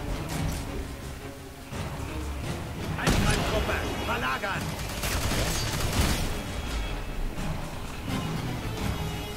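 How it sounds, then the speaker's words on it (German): Gunfire in the shooter F.E.A.R. 3: dense, continuous bursts of rapid shots and impacts in a chaotic firefight, with voices shouting over the shooting. "Unterstützungsfeuer! Feuer aufrechterhalten!"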